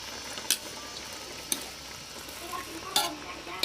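Field rat meat dry-stirred with chili, eggplant and vegetables in a pan, with a soft continuous sizzle broken by a few sharp scraping clacks of the utensil against the pan.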